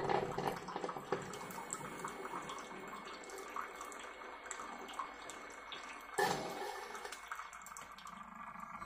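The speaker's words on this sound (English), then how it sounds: "You can hear the coffee almost coming to an end." A home latte maker nears the end of brewing coffee, a steady close trickling and hissing of liquid that ends in a sharp click at about six seconds, after which only a quieter hum remains.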